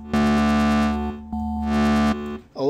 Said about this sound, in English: Now, the P shaper, parabolic shaper.